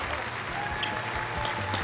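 A studio audience at a televised singing competition battle round applauds in a dense, steady burst of clapping.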